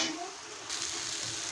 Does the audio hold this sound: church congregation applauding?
no